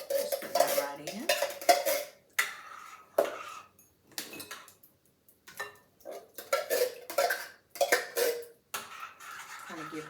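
Creamed corn is stirred in a pot, with a spoon clinking and scraping against the metal in uneven bursts separated by short pauses, and a brief cough in between.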